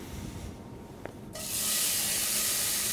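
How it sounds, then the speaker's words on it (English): Bacon drops into a hot pan for baked beans and erupts into a loud, steady sizzle that starts suddenly and holds, following a brief quieter moment with a small clink. "We're going to cook the bacon first to get a little bit of color on it."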